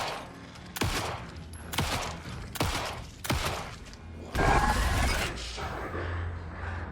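Four heavy gunshots in Alan Wake 2, spaced about a second apart with echoing tails, followed by a louder, denser burst of impact noise and a lingering rumble.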